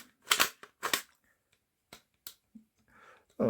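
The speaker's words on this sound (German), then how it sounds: "Magazin hinein." Sharp plastic clicks and snaps as a magazine is pushed into a toy blaster, two louder clacks followed by a few softer taps and a final click, close and quiet in a still room.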